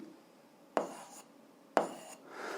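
An equation written by hand at a school algebra lesson, two short scratchy pen or chalk strokes, quiet and close with near silence between them.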